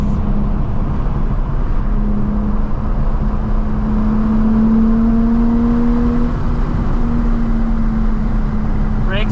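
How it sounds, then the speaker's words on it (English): Nissan 350Z with a Tomei aftermarket exhaust drones steadily under load, a smooth engine tone rising slowly in pitch as revs build, heard close from inside the car with a constant road roar. "the Tomei exhaust actually sounds really nice"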